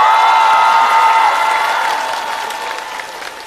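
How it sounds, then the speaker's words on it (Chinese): Studio audience at a televised stand-up comedy competition bursts into loud, dense applause that stays strong, then gradually thins and fades, with a few faint whoops mixed in. "掌声欢迎"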